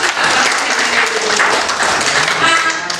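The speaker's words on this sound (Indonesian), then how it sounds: "mari kita tepuk tangan untuk kebersamaan" Parents, teachers and students clap at a school parenting session at SMAN 1 Kupang, a loud, continuous burst of crowd applause throughout.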